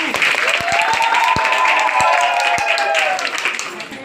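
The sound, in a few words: audience applause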